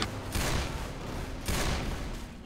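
Sustained gunfire from a weapon in Left 4 Dead 2 aimed at a Charger, loud and close, in two dense bursts with a short pause between them and no talking.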